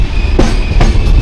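The Jamnagar–Tirunelveli Express rumbles loudly through Sangameshwar Road station, heard from inside a general coach, with a heavy continuous roar and two sharp clacks of wheels over rail joints.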